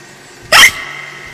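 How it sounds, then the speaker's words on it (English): A single loud, sharp hiccup from a young cartoon pig character, a quick rising yelp that stands alone and is close to the mic, followed by a brief fading tail. "Peppa's cure for hiccups doesn't seem to have worked."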